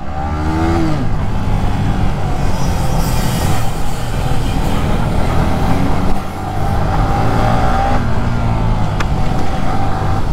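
Yamaha R15 and KTM Duke motorbikes ride together, producing a loud, continuous engine roar and road rumble that holds steady throughout with a brief dip partway, and no voices.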